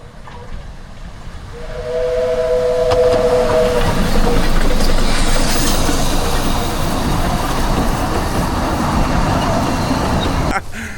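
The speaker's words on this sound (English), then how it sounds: "It is a steam train." A steam whistle sounds, then a steam train rolls past close by in Snowdonia, Wales, its loud hissing, rumbling roar filling the rest of the scene.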